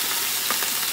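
Tofu browning in a hot pan gives a steady, dense sizzle throughout, close and even, with no talking over it.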